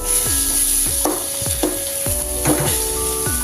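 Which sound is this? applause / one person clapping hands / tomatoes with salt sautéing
tomatoes with salt sautéing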